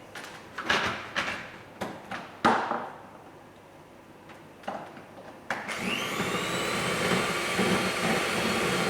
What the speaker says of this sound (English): I'm then going to whisk that with an electric whisk for 3 to 4 minutes.